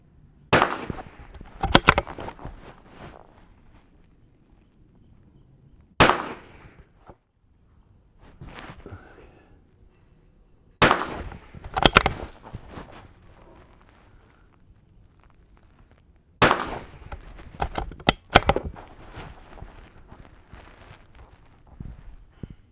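Shots from a CZ 455 rimfire rifle at a shooting range, fired left-handed in short clusters of sharp, loud cracks separated by pauses, with faint movement sounds between the groups.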